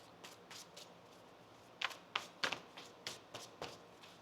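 Tarot cards being shuffled by hand, a run of soft, crisp riffling taps that come quick and close, with a few sharper snaps midway, alone with no talk.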